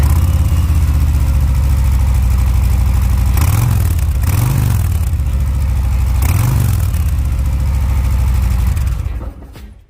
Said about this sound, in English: This right here is Harley Davidson's famous Milwaukee 8 114 cubic inch engine.